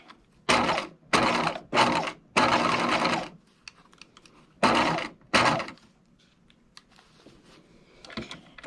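A sewing machine stitches a lace face mask in short bursts: four quick runs, a pause with faint handling clicks, then two more bursts, close and moderately loud.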